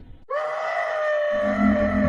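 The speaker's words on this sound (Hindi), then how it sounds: "नील डर के मारे चिल्लाने लगा।" A man screams in fear in a horror story, one sustained loud cry that starts abruptly and holds, rising near the end, with no talk over it.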